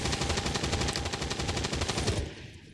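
Sustained automatic gunfire from XCOM 2: War of the Chosen, a rapid steady burst of shots lasting over two seconds before cutting off abruptly, loud and close with no talk.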